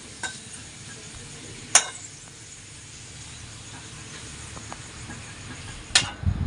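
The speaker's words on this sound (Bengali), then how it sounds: "এই যে পাঁপড় ভাজছি পাঁপড় ভাজা হলেই ওদের খেতে দেবো" Papad frying in a pan gives a soft, steady sizzle close by, broken by a few sharp clinks of a utensil against the pan.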